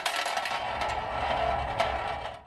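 Ideal Battling Tops spinning toy tops whirring and rattling in their plastic arena, a steady buzzing clatter with scattered sharp clicks as the tops collide, close and fairly loud for a couple of seconds.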